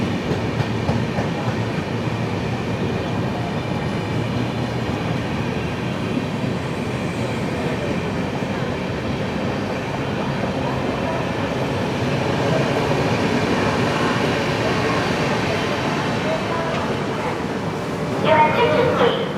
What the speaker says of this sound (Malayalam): Train number 16345 Lokmanya Tilak Trivandrum Netravati Express has arrived at Kayankulam Junction, platform number 2